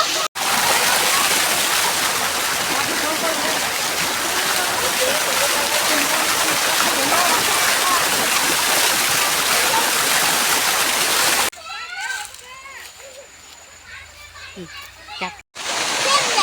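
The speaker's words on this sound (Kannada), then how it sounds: "ನೀರು ಬೀಳೋದು ನೋಡ್ರಿ" Water pours and splashes loudly and continuously in a farm field, a dense rushing roar that suddenly drops away to a quieter background with voices talking faintly.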